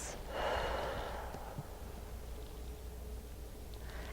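One slow, deep breath during a meditation exercise, a close, airy inhale or exhale swelling early and then fading into a soft steady hiss of room noise, with no voices.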